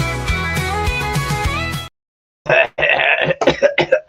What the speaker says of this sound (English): I was clearing my throat when we just went on.